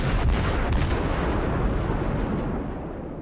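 Heavy naval gunfire from the Myoko, a Tier 7 Japanese heavy cruiser with 203 mm guns, booming in a World of Warships naval battle: a loud, dense salvo of overlapping blasts that rolls on and fades slowly, with no talk.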